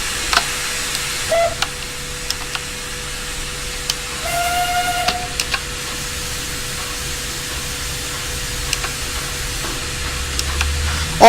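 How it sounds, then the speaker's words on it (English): Steam locomotive blowing off steam in a train simulation game on a light railway, a steady hiss running throughout with a few faint clicks and knocks, close and even, no talk. "Right, we're blowing off, so we better get a move on."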